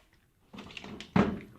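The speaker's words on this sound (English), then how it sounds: "Let me open up this drawer too." A drawer slides open on a 56-inch Harbor Freight U.S. General Series 3 metal tool box, with a short rolling rattle and then a sharper metallic clunk, close by, with no voices.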